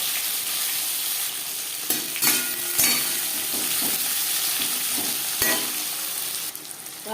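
Chopped onion and tomato fry in hot oil with panch phoron and bay leaf, a loud continuous sizzle close by, broken by a few scraping stirs of the spoon in the pan.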